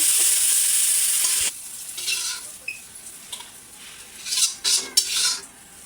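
Sliced onions and green chillies fry in a pan for an egg dish, opening with a loud, hissing sizzle that drops to a quieter crackle with metal spatula clinks and scrapes.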